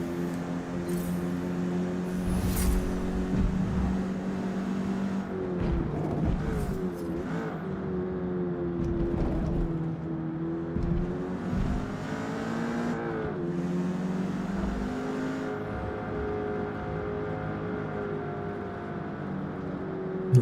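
Race car engine droning steadily in Forza Motorsport during a Builders Cup event, with harmonics rising and falling as the car shifts and corners, loud and continuous throughout with no talk.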